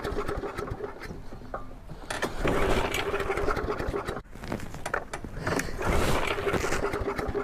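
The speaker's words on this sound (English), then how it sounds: "I don't want to mow with it, I just want to start it." A long-unused lawn mower engine is started up close, giving a loud, rough, rattling mechanical run that surges, drops briefly and then picks up again.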